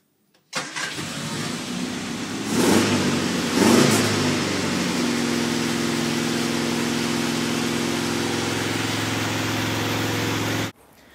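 A classic Mini engine with worn spark plugs starts and runs at a rough, uneven idle, with a couple of rising revs early on before settling into a steady rumble that abruptly stops.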